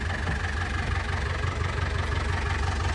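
An old tractor engine, abandoned in the woods for a few years, runs close by at a loud, steady idle with a rough low-pitched chugging pulse and no voices over it.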